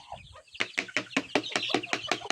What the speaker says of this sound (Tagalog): Yung tandang ko wala pa dito. Ando sila sa kabila kanina, tumitilaok eh.